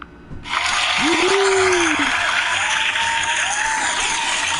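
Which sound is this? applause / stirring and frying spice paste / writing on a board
applause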